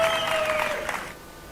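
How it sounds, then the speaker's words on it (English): A grandstand crowd cheers and claps at the finish of a single-make race, a dense wash of applause that fades sharply near the end of the clip. "absolutely the crowd goes wild"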